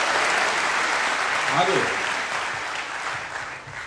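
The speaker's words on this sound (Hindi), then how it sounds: "जोरदार तालियां होनी चाहिए।" Audience applause at a live motivational business event in India, a dense, steady wash of clapping filling the room throughout, with a voice briefly speaking over it.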